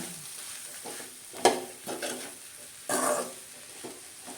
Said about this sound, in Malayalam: ഇനി നമുക്കിതൊന്ന് നല്ല രീതിയിൽ ഒന്ന് മിക്സ് ചെയ്യാം